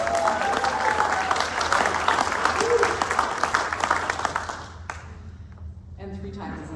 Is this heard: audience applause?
yes